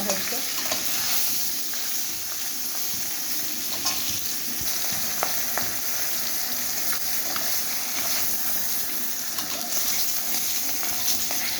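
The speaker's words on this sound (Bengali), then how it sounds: "বন্ধুরা মাথাগুলো ভাজা হয়ে গেছে" Fish heads frying in oil in a pan while being stirred, a continuous loud sizzle with scraping and occasional clicks of the spatula, close and without talk.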